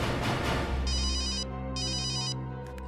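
A telephone ringtone plays in bursts of bright electronic trills, two clear rings separated by a short gap over a low background hum, with no talking.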